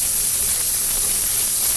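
A spray bottle squirting at a dog in a home kitchen, one loud continuous hissing spray lasting under two seconds, close and alone.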